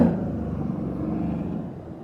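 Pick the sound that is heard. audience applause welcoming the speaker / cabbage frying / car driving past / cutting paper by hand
car driving past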